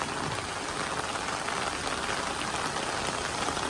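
Heavy rain pours down steadily during a flood, a dense, continuous hiss of drops striking surfaces that stays loud and even throughout, with no voices.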